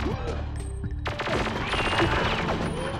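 Gunshots in the Perfect Dark video game: a rapid burst of loud synthetic gunfire starting partway in and continuing over electronic game sounds and a low background hum, without talking.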